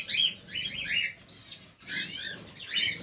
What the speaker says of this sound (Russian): Певчая птица, вот она.